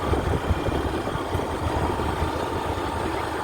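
A Swaraj tractor engine runs steadily in a rural village farm setting, a loud, continuous low rumble close by with no speech.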